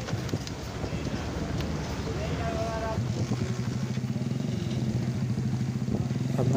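Motorbike ridden home at night, a steady close engine drone with rapid pulsing, mixed with wind buffeting the microphone throughout.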